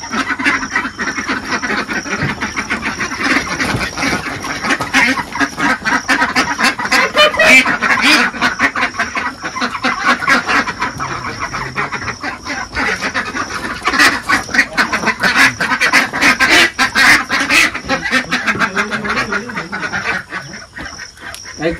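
Domestic ducks being fetched from a rural Bengali household pen keep up a dense, continuous chorus of quacking and honking calls, fairly loud and close, running throughout without talk.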